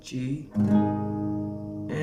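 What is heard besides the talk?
No everyday noises stand out.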